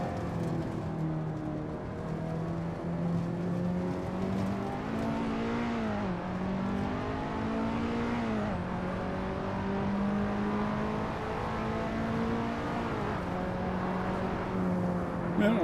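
Race cars lap the Nordschleife in the Assetto Corsa racing game, a steady, droning engine note that rises and dips as the cars shift gears and take corners, continuous and moderately loud with no talk.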